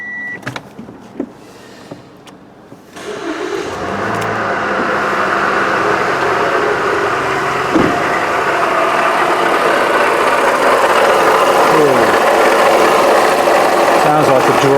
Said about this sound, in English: Sounds like a dry water pump.